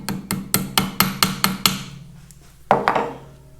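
Roughly seven sharp hammer taps in quick succession drive a small Woodruff key into a Caterpillar D2 shaft held in soft vise jaws, followed by a pause and one louder metallic strike that rings briefly.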